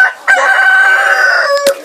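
A laying hen on a farm lets out one loud, close, drawn-out cackling call that rises and then falls off at the end.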